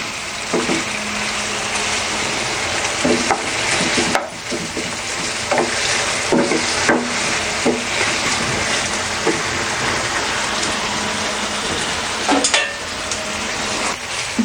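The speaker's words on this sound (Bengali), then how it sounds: "তবে ঘন ঘন নাড়তে থাকবেন যাতে কোথাও পুড়ে না যায় বা কড়া করে ভাজা না হয়ে যায়।" Chicken and onions frying in a sauce, stirred often so nothing scorches: a continuous close sizzle broken by repeated scrapes and clacks of the spoon against the pan, with no talking.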